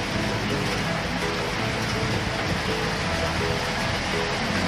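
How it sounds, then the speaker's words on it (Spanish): Steady, dense hiss of heavy rain pouring down in Siloé, Cali, Colombia, constant and loud with no pauses, filling the whole scene. "Una fuerte lluvia empieza a caer acá en Siloé,"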